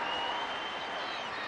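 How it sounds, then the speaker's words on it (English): A Wexford crowd at a 2014 hurling qualifier against Waterford roars and applauds after a free is awarded, a dense, sustained wall of cheering from a large stadium audience. "cheering that decision to the rafters"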